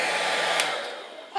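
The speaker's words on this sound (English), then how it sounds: "Turn the blow dryer off." A handheld blow dryer roars loud and close with a constant airy whoosh before its motor note drops away as it is switched off.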